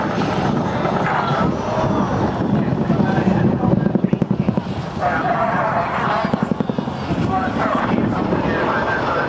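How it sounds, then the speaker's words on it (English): A Boeing Chinook twin-rotor helicopter flies at the RIAT 2012 airshow, its loud steady rotor roar and rhythmic blade thumping filling the air continuously, with someone talking over it. "The Chinook can carry its own weight over, and it does it all at speed, flying up to 320 kilometers an hour"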